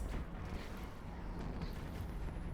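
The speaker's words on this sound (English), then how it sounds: "pretty explosions from these as well" Ship weapons exploding in the space game Eve Online with close-range ammo, a dense continuous rumbling roar of blasts that holds steady and loud throughout, with no voices.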